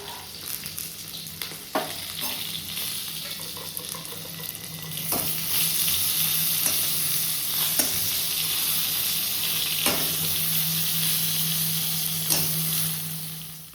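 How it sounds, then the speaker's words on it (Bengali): Eggplant (brinjal) slices fry in a pan with a steady, fairly loud sizzle, broken now and then by sharp clicks and scrapes of stirring, no talk over it. "বেগুনটাকে ভাজা বসিয়ে দিয়েছি বেগুন ভাজা হচ্ছে"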